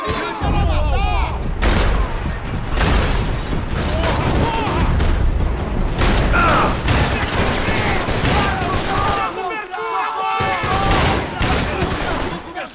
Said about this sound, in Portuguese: Troca tiro na região!